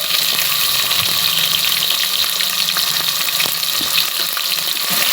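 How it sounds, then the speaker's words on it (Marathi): Onion, garlic and coriander paste fries in oil for a Satara-style mutton curry, a loud, continuous close-up sizzle with occasional light stirring clicks and no pause. "ते वाटण पहिल्यांदा भाजून घ्यायचं चांगलं तेल सुटेपर्यंत"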